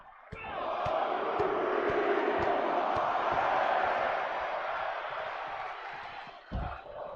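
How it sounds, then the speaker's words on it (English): Video game crowd in WWE 2K24 wrestling, chanting in a steady, broad roar that fills the arena for several seconds, with sharp impact thuds punctuating it and a heavier hit near the end. "The crowd are chanting "Fight forever.""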